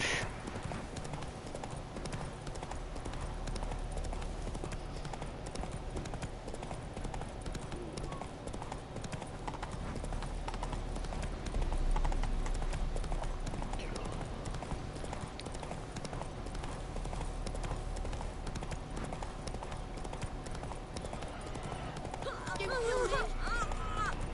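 Roach the horse gallops in a video game, a steady run of hoofbeats clip-clopping throughout under an ambient music bed, with a brief pause and a heavier swell midway.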